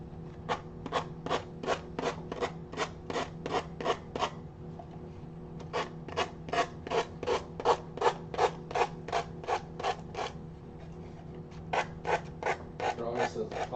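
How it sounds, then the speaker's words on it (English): Sandpaper rubbed in quick, even back-and-forth strokes to remove excess napkin from a decoupage craft piece, a close, scratchy rasping in two long runs with a short pause between and a few more strokes at the end. "I'm just going to sand off the excess napkin."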